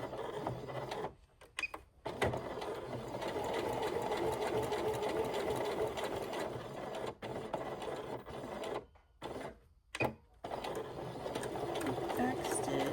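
A sewing machine running steadily to back stitch a sew together bag, with brief pauses between runs and a person talking over it.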